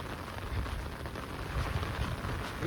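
Heavy monsoon rain pours down in a dense, steady rumble with no voices, holding at an even level and swelling slightly near the end.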